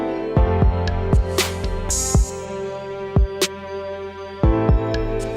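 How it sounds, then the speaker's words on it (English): A drum beat with sharp kick hits and a sizzling open hi-hat ringing out between them, layered over a sustained synth pad. "Add in some open hats."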